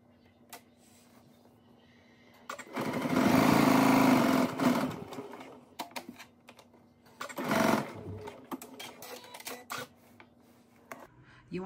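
A sewing machine runs in two bursts of rapid short-length reinforcing stitching on pants, a longer run then a short one, with quiet handling noises and a faint hum between.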